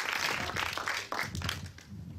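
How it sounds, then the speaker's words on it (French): A cinema audience at a film preview in Rochefort applauds the director, a dense wash of clapping that runs steadily throughout, with voices mixed in beneath. "Merci d'applaudir très fort Monsieur Jean-Pierre Améris"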